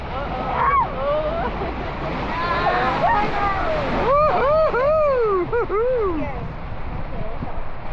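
A river rapids boat ride at an amusement park, rocking through choppy water, with steady rushing and splashing water throughout while several people talk and shout excitedly over it.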